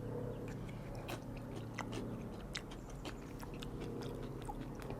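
Crisp pork rinds topping a trail meal get chewed close up, with a steady run of small crunchy bites over a low background hum.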